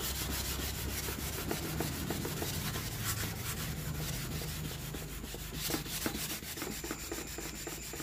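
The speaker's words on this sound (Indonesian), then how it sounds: "langsung berikutnya Sending ya untuk amplas saya pakai grid 400 pertama" Rapid back-and-forth rubbing of 400-grit sandpaper on a painted surface, a dense scratchy rasp that continues steadily with slight variations in stroke.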